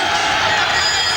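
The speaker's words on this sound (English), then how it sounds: "Crowd really going now." A boxing arena crowd roars and cheers in a dense, steady wash of noise during a Chris Eubank fight, loud and continuous throughout.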